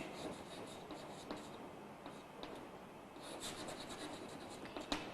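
Writing on a board during a Class 12 three-dimensional geometry lesson: quiet, scratchy strokes with small taps, steady over a few seconds and heard alone.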